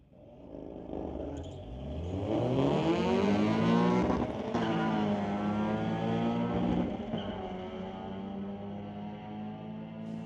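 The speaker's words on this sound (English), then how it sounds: "it's actually a Honda Civic, and the 2-liter motor going up against that Audi over here on the close lane" A 2-liter Honda Civic revs hard beside an Audi at a drag strip, its engine climbing loud and close through rising gear pulls over about ten seconds before easing to a steady drone.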